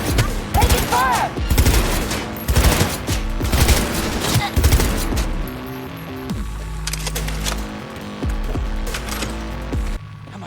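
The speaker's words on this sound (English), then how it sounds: "Dropping like flies here! Taking fire!" Rapid bursts of automatic gunfire and shots from the video game Cyberpunk 2077, loud and dense in the first half, then giving way to a steadier hum with scattered game effects.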